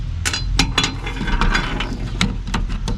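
Small screwdriver clicks and ratcheting as two T20 Torx screws are backed out of the rear of a Ford electronic climate control module, a string of sharp close ticks and clinks over a faint steady hum.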